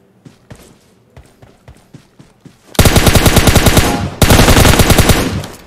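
Gunfire in PUBG Mobile, scattered distant single shots giving way to loud, rapid automatic bursts in two long sustained volleys.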